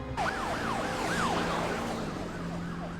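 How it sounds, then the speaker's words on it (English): Wailing ambulance siren from a TV drama, a repeating up-and-down sweep sounding steadily for about three seconds over a low vehicle rumble, fairly close and loud, with no talking. "Now is that a Lumen ambulance?"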